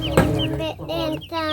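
Chickens clucking on a small farm in St. Elizabeth, Jamaica, several close, loud, broken clucks and squawks in quick succession with no talk over them.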